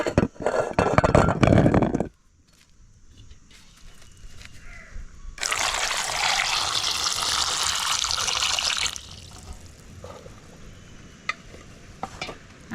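Ambarella fruit being washed in water before boiling for a Sri Lankan village devilled dish: a burst of splashing and sloshing at the start, then a long steady wash of running or rushing water in the middle, with quieter handling between.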